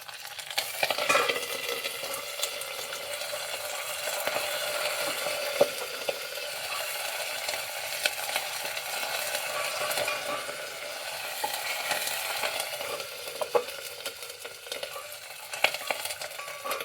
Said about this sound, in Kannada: ನೆಕ್ಸ್ಟು ಕರ್ಬೇವಿನ ಸೊಪ್ಪು ಹಾಕ್ಕೊಳ್ಳೋಣ